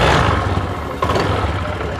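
A Honda Activa 3G scooter engine revs up close, a steady, loud, rough mechanical drone that holds for about two seconds with only a slight dip and surge partway through.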